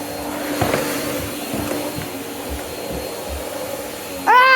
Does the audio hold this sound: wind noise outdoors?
no